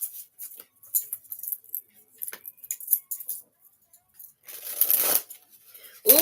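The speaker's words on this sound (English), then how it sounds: "Let's get some shuffles on the deck." Close, crisp tarot card shuffling in short bursts of flicking and sliding, ending in a longer smooth riffle, with no voices.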